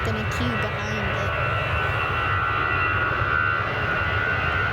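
EasyJet Airbus A320 jet engines idling and spooling at Manchester Airport before departure, a steady loud whine with a tonal hum, faint voices in the background.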